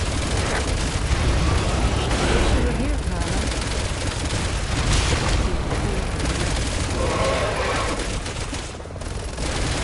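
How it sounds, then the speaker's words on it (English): Sustained gunfire and explosions from the game Resident Evil 6, as a canister is shot during the fight with mutated Derek Simmons, the blasts loud and dense throughout with a continuous rumble. "Trying to shoot this canister."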